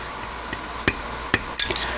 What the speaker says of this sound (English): I usually use a regular hammer, but I just happen to have the rubber mallet laying there.